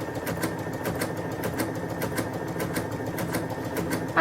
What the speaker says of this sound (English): Just go along and we're just going to sew.